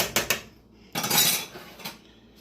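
Cubed potatoes being stirred into a sausage, potato and kale soup pot, a few sharp clinks of a utensil against the pot followed by a louder scraping, clattering stir, close and with no talking.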